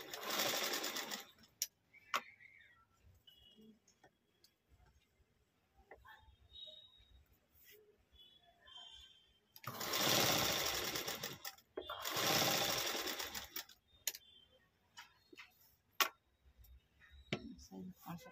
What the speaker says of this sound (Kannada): ಇಲ್ಲೇ ಸ್ಟಿಚ್ ಮಾಡ್ಕೊತೀನಿ